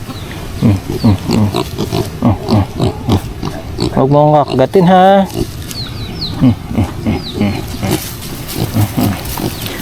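A native pig on a farm grunts in a steady run of short, low, close pulses, with a louder squeal in the middle, while a person talks throughout.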